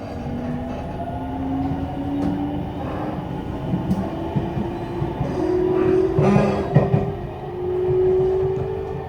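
A Nankai Rapi:t limited express train rolls into Namba Terminal, a steady loud rumble of wheels and carriage noise with a sustained rising motor whine and a few brief clanks, heard alone without voices.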